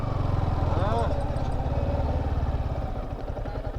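A motorcycle engine idles nearby with a steady low throb at an outdoor fair parking area, voices talking over it throughout.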